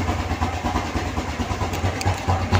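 A motorcycle fitted with a remote alarm system idles after being started remotely, a steady close engine chug throughout the short stretch, without talking.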